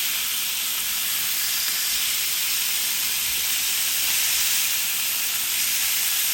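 Filet mignon steaks sear in a hot pan with a steady, dense sizzle and hiss that holds evenly throughout, loud and close with no talking.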